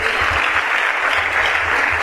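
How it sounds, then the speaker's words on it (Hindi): A seminar audience gives loud, sustained applause for guest speakers, a dense wash of many hands clapping that fills the hall without a break. "एक उनके लिए जोरदार ताली दीजिए"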